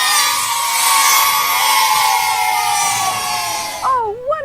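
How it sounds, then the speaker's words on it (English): A crowd of children cheers and shouts loudly together in one sustained burst, ending abruptly with a couple of high rising whoops. "Yay, I do hear the cheers."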